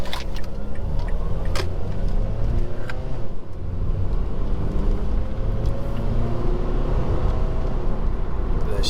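A Mazda 2 engine runs while driving on a cold transmission, a continuous cabin drone of engine and road noise with a few faint clicks and rattles on top.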